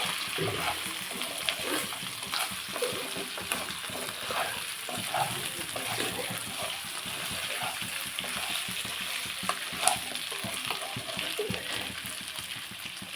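Chicken fry sizzles in a pan on the stove while being stirred, a continuous crackling hiss broken by repeated scraping and stirring knocks, close up and steady throughout.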